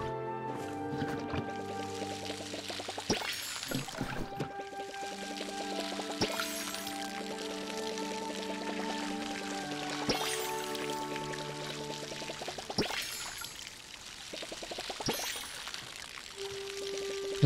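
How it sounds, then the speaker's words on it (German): Steady pouring and splashing of water while watering plants in the Palia video game, continuous and moderately loud over layered background game music with sustained tones throughout. "So, ich muss euch gießen."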